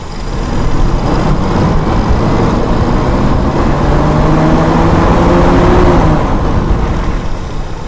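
A Toyota Kijang Super engine with a carburetor is revved hard, a loud close roar that swells through the throttle blip and holds high before easing off slightly near the end.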